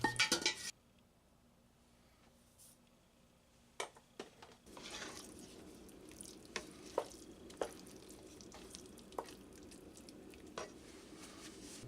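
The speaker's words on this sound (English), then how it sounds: "Add the cabbage and the parsley to the potatoes and fold in." Cabbage and parsley get folded into potatoes with a utensil, producing soft wet mixing noises and occasional light clinks against the bowl, quiet and close, after a brief louder clatter at the start.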